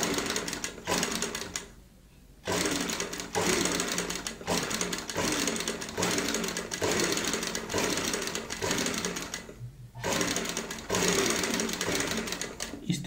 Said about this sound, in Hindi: इस तरीके से सेंटर पॉइंट पे सिलाई लगाते हैं, और यहाँ पे चुन्नटें डालनी होती है।